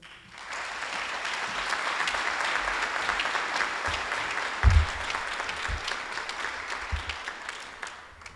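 An audience at a 2013 honors convocation breaks into steady, sustained applause from many hands, dense and fairly loud, fading at the end.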